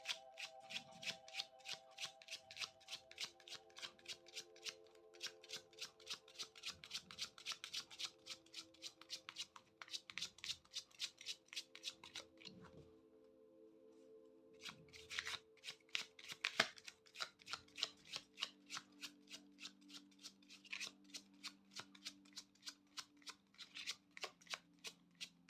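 Tarot cards shuffled by hand in repeated bursts of crisp riffling and flicking, close and steady, with a short pause midway before the shuffling resumes, and no talk over it.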